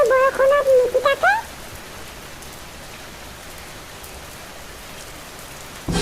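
Steady rain pours down during a flood in Dhekinpata village, a broad even hiss that fills the whole stretch after a brief voice at the very start.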